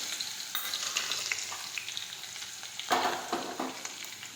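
Mustard seeds, cumin and crushed garlic crackle in hot oil, a bright continuous sizzle dotted with sharp pops and spitting, swelling louder for a moment near the end.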